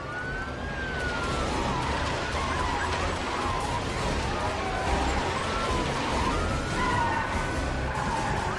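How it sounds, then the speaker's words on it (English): Police car sirens wail and sweep continuously through a car chase in The Amazing Spider-Man game set in Manhattan, loud and sustained over a dense wash of traffic and engine noise. "If I choose that, then that means I'm going to kick off a police car chase in the nearby area."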